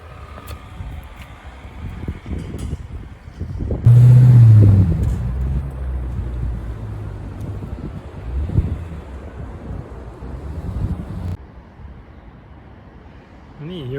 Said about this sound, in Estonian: Mõnus tuuline, mis tähendab seda, et ilmselt mu hääl ragiseb igat pidi.